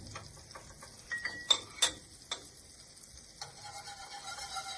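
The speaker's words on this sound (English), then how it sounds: "And allow the garlic to saute for about" Garlic sautéing in a pan for a honey garlic sauce gives a soft, steady sizzle with scattered stirring clicks and scrapes, close and fairly quiet.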